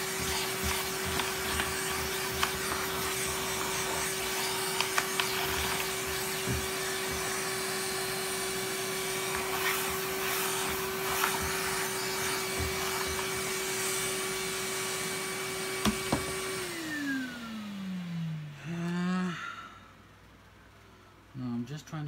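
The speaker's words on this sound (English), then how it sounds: "Let's just vacuum out some dust." A Fakir 350 softbag vacuum cleaner sucks up dust with a steady loud whine for a long stretch, then winds down with a falling pitch and shuts off, followed by brief handling noises.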